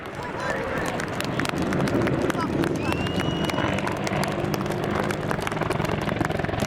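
Attack helicopters of a display team fly at the RAF Cosford air show, a steady rotor drone with wind buffeting close to the microphone, holding under a loud announcer's voice throughout.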